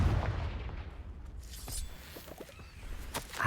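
A Confringo fire spell blasts in Hogwarts Legacy, landing as a low booming burst near the start, followed by scattered crackles and thuds over quieter game ambience.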